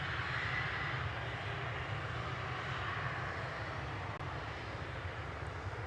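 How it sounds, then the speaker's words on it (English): A Gulf Air airliner departs Manchester Airport, its engines giving a sustained low rumble and broad roar that holds steady for several seconds with no voices. "Gulf Air departing back to Bahrain with Flight 4."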